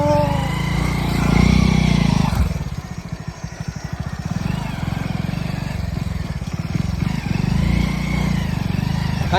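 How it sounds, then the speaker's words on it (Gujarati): A motorcycle ridden along a road, its engine a steady, close buzzing drone with rhythmic pulsing that holds throughout, loudest at the start and settling slightly lower. "જો બાઇક ચલાવવાનું કેવું થાય"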